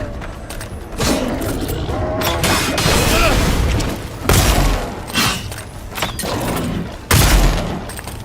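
Pistol shots ring out in the fantasy video game Avowed, heavy booming blasts at irregular intervals over continuous game noise and effects.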